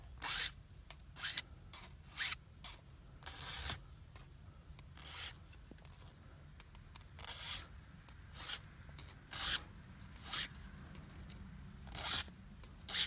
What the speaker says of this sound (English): we have to eliminate the slope just with some careful filing